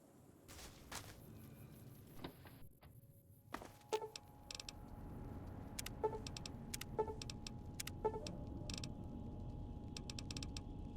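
A truck in Fallout New Vegas rolls along with a low, muffled engine rumble, broken by creaks, clunks and metallic rattles and a few short tonal beeps scattered through it.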